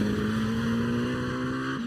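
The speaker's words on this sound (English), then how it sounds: "Sounds like his engine's off just a little bit there, too. It's a little burble under acceleration." A race car at a GRIDLIFE track battle on the Mid-Ohio circuit, its engine droning steadily and loudly under acceleration with a slightly uneven burble, sustained close by for about two seconds.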